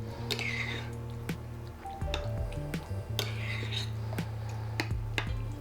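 Homemade pumpkin puree and sour cream being stirred together in a bowl for a crumble cake batter, giving soft wet squishing and dripping sounds with small clicks, close and steady throughout over a low background hum.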